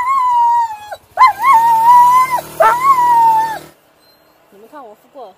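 A dog howls in long, drawn-out wails, pausing between them, and then gives a few short, wavering whimpers that fade quietly.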